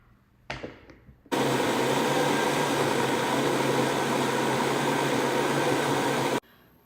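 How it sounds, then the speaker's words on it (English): A blender whirs loudly and steadily as it blends a flan custard mix, a constant motor roar running for about five seconds before cutting off, with no talking. "I poured all the stuff into this blender, and I'm gonna blend it"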